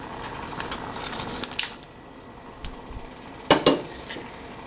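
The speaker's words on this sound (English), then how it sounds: "Now I'm going to add our boiled drumstick into this pan." Boiled drumsticks being dropped into a pan of onion-tomato mixture, heard as a few soft clinks and thuds of metal and food against the pan, close but fairly quiet, with no talking.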